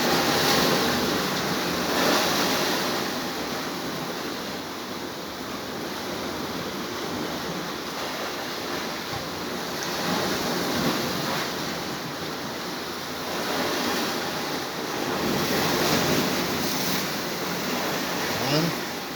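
Sea waves washing onto a beach, with steady surf swelling and receding in broad surges, mixed with gusty wind buffeting the microphone close up.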